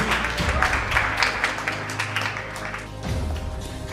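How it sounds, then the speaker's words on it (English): An event audience applauding as award winners come up to receive their prizes at a founders' night, steady dense clapping throughout with a brief dip near the end and a low hum underneath. "You can keep clapping as they get their awards."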